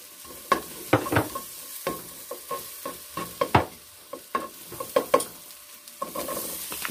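Chopped onion hits a frying pan already holding garlic for a sausage and vegetable omelet, sizzling softly under a string of sharp scraping and clacking stirs close by.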